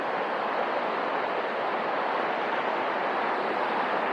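Rushing water from a small waterfall hisses in a constant, dense wash, close and steady with no breaks and no voices over it.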